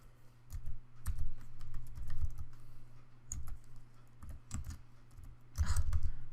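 Someone types on a computer keyboard in irregular bursts of close, crisp key clicks over a low steady hum, with short pauses between runs of keystrokes.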